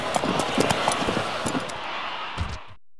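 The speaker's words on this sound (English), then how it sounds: "The horses are on the track." Racehorses on the track in Gallop Racer 2004, a loud busy rush of hooves and crowd-like noise with sharp clattering hits, cutting off abruptly near the end.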